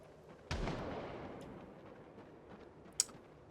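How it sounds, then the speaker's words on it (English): A single distant gunshot in a video game booms and rolls off into a long fading echo, followed later by a faint sharp click. "speaking of gunshots, like that one that just went off"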